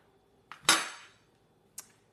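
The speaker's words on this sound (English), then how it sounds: "When you cut a lemon across, you get all that little lemon cartilage there." A knife cuts across a lemon: a soft tap, then one crisp chop against the board that fades quickly, and a light click a moment later, close and quiet with no talking.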